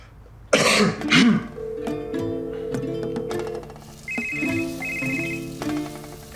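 A couple of coughs lead into a melodic electronic phone ringtone, repeating tones that play close by, ending with a higher repeated beeping pattern.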